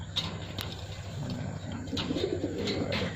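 Pigeons coo softly in a loft, a large active pair with clean eyes and bright red noses, their low murmuring calls repeating steadily among faint rustles and background noise.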